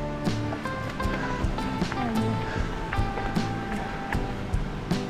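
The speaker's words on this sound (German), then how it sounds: "Ja, da vorne der Wasserfall." Waterfall at the Stuibenfall in the Oytal valley of the Allgäu, heard as a steady, fairly loud broadband rush of falling water that fills the whole clip, with small bumps and clatter from a mountain-bike ride on a rocky trail.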